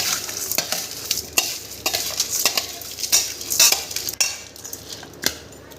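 Papad bhel is stirred with a spoon in a bowl, producing rapid, irregular crunchy scraping and clinking strokes that repeat at close range for several seconds.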